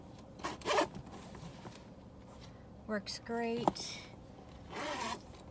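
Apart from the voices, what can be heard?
purse zipper being opened and closed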